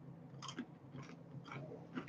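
Onion pretzel bitten and chewed, four crunchy bites at a steady rhythm, close and fairly quiet with no talking.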